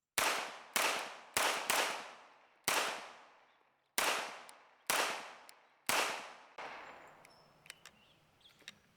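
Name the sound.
H&K 45CT .45 pistol gunshots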